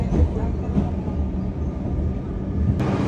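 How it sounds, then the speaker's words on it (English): A Melbourne metro train rumbles along while riding inside, a steady low rolling drone with faint rattles and a brief sharp clack near the end. "I thought I'd give you guys a ride on the metro train"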